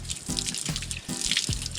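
Water splashes and trickles onto hair outdoors while an afro is being wetted for washing, arriving in two close, uneven pours with dripping in between.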